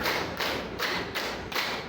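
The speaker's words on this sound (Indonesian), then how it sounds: "Tepuk 1, tepuk 2, tepuk 3, tepuk 4, tepuk 5." Rhythmic hand clapping in a classroom exercise, muffled and fairly quiet, with three heavy claps landing at an even, steady pace and no voices over them.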